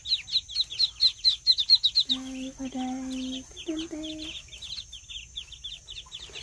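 Muscovy ducklings of the black variety chirp rapidly and repeatedly, loud at first and then more steadily, while a person speaks briefly over them.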